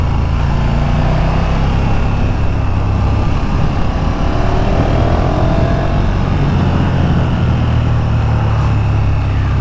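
A KTM Super Duke 1290R motorcycle is ridden on the road, its engine droning loud and steady throughout, blended with heavy wind rush and no clear gear changes.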